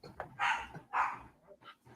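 A dog barks twice in loud, close yips, followed by a few softer whimpering yelps.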